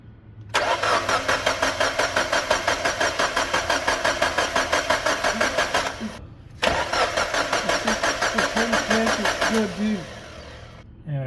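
A Mazda Miata NB with no spark cranks without starting, the starter churning in rapid even pulses for about five seconds, pausing, then cranking again for several more seconds, with faint talk between attempts.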